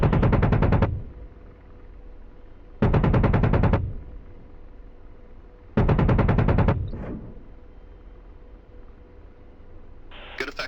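AH-64D Apache helicopter weapons firing in the DCS flight simulator: three loud, sharp rapid-fire bursts about a second each, separated by quieter gaps with steady rotor and cockpit hum beneath.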